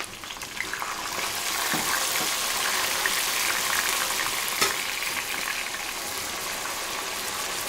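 Pepper frying in hot oil with onions for Ayamase stew, a loud, steady close-up sizzle that hisses continuously throughout, with faint stirring clicks in the pan and no talk.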